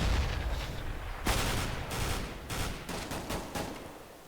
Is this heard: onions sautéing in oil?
no